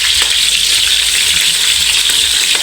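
Tomatoes sauté in hot cooking oil for a chicken sinampalukan dish, giving a steady, loud, bright sizzle with light stirring scrapes close by.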